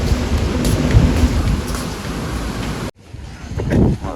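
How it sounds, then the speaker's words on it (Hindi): Strong wind gusts roar across an outdoor brick kiln site, a loud broad rushing that cuts out abruptly near the end before swelling again, with no voices. "हवा चल रही है तेज वाली"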